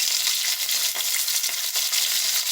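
Potatoes roasting in a hot cast iron pan, being turned with a metal fish turner; a continuous bright sizzle and crackle of frying with scattered scraping clicks of the utensil, close and loud, no talking.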